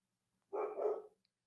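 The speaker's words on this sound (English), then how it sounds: "If you hear the barking, that is my German Shepherd that you guys see." A German Shepherd gives a short burst of two or three quick barks, fairly close and clear, alone against a quiet room with no talking.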